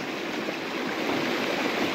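A forest stream flows with a continuous, fairly loud rushing and gurgling, steady throughout with no voices over it.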